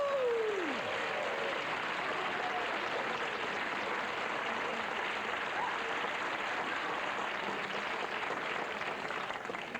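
A studio audience at a 1980 talk show applauds and cheers for actor Robert Wagner, steady dense clapping that fills the whole stretch without letting up.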